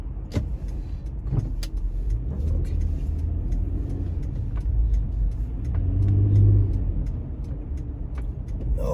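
A car drives through traffic in America and changes into the left lane, heard from inside the cabin as a steady low engine and road rumble with a gentle swell partway through and faint clicks.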